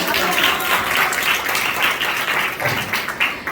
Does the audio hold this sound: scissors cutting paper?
no